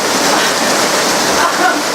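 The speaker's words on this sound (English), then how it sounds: "wow, it's really raining" Heavy rain pours down in a dense, steady hiss that fills the whole stretch, loud and unbroken with no distinct drops standing out.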